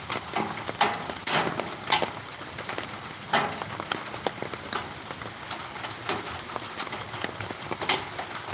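Rain falling through a wooded area, a steady diffuse patter with scattered sharper drops striking leaves and ground, even and continuous throughout with no talking.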